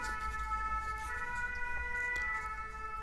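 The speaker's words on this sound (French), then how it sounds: "j'ai bu pour laisser passer l'ambulance. Quand je bois, l'ambulance s'arrête et quand j'arrête de boire, elle reprend" An ambulance siren wails steadily at a moderate distance over low road rumble, its tone holding without a break and no one speaking.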